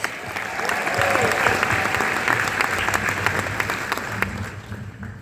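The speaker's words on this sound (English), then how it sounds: "Let's give them all a round of applause." Guests at an evening gala applaud a group of honorees, a sustained wash of clapping from a large room that swells and then slowly thins out, with a faint murmur of voices beneath.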